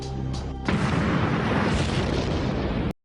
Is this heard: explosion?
yes